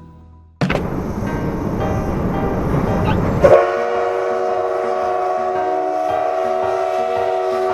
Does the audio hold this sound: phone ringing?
no